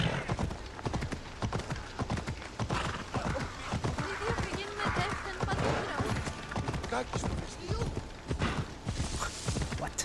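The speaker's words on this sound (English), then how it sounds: "This horse likes running over people." Hooves pound in a fast, steady gallop in Assassin's Creed Odyssey, close and continuous, with a horse neighing briefly and voices speaking over the running.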